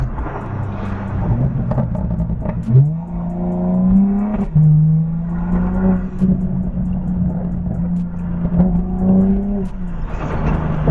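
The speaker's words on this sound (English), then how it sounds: "it picks up the car, the way it sounds" A BMW G82 M4 engine revs repeatedly, rising and falling in pitch with a deep, rumbling tone, loud and close.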